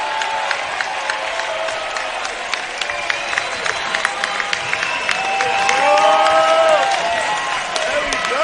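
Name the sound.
basketball crowd cheering at end of game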